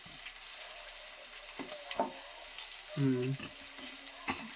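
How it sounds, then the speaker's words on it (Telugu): Curry leaves fry in oil alongside crushed garlic, a soft continuous sizzle with scattered scraping stir strokes and a brief louder clatter partway through. "అదేవిధంగా కరివేపాకు కొంచెం మగ్గని"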